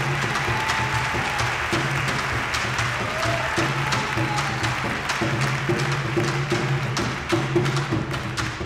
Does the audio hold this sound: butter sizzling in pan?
no